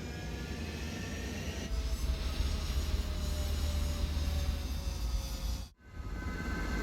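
Jet fighter taking off in Ace Combat 7, a loud sustained engine roar that swells and holds steady before cutting out sharply near the end.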